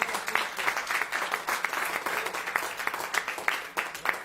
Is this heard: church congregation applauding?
yes